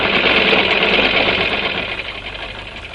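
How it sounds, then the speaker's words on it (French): A sewing machine runs steadily and fairly loud, a continuous dense mechanical whir that eases off a little toward the end, with no voices. "La machine à coudre, le travail et ses servitudes."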